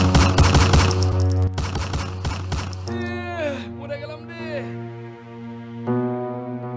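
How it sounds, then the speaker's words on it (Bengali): Rapid bursts of gunfire crackle through a shootout scene in a comedic drama, a dense volley filling the first half before tonal voices and music take over. "ভাই গোলাগুলি শুরু হয়ে গেছে,"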